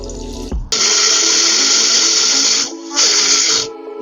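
Water is poured in for grinding banana leaf for a Tamil banana leaf halwa, a loud, steady gushing that runs about two seconds, stops briefly, then resumes in a shorter burst.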